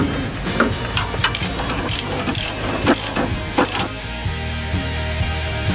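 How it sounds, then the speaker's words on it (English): A ratchet wrench removes the front bolt of a coupler shock, giving rapid clicking bursts in quick irregular strokes, close and fairly loud, ending with a lower mechanical rattle. "After removing the bottom plate, remove the front bolt of the coupler shock."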